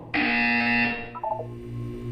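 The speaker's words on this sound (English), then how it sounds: "You will hear a buzzer" A loud, harsh electronic buzzer blares steadily for nearly a second in Portal 2, then cuts off into a few quick fading tones against a low background hum.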